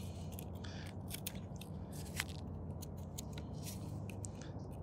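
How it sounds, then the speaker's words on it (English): A dragon fruit seedling stem being cut back with a blade, making a few soft, close snips and crunchy cuts over faint background noise. "I think I'm gonna prune this back a bit, or cut it back, I should say, and do kind of a flesh to stem cut."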